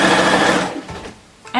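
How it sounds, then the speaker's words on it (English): A sewing machine stitches bias tape along a fold on a boxy dress, a loud close whirring run that slows and stops, then briefly starts up again. "And then I simply stitch right in this fold, all the time checking that I'm covering the overlock properly"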